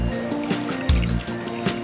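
Hot water is poured from a pan into a mixing bowl for mocha cupcake batter, a steady close-up splashing and trickling with a few louder gulps as the stream lands.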